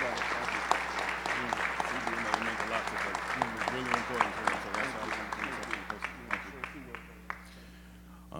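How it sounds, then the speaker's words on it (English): Audience applause at an annual award ceremony, a crowd clapping steadily as a brother comes up to accept an award on someone's behalf, tapering off toward the end with a faint voice at the start. "let's give Philip Jackson our love and a loud round of applause"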